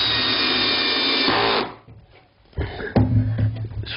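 A Bosch power tool whirs loudly, driving screws to fix a nest box onto a chicken coop: one long run, a brief pause, then shorter bursts of motor whine.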